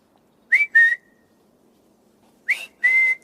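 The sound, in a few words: person whistling to summon a butler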